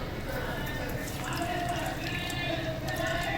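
Lukewarm water trickles and splashes into a bowl of yeast and sugar in a home kitchen, a soft continuous pour with faint drips, while a voice speaks over it.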